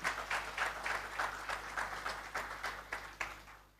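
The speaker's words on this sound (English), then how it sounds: "That deserves recognition and a round of applause." Audience applause at an awards ceremony: steady, even clapping at moderate volume that continues throughout, with no voices over it.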